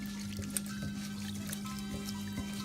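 Rice is swished around in a bowl of water to wash it, giving faint sloshing and trickling with small splashes over a low background hum.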